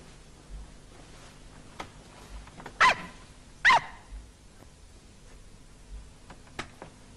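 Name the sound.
dog barking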